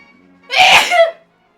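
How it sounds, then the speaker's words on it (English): A single loud, close sneeze bursts out sharply and is followed by silence, heard alone with no talking. "Bless you."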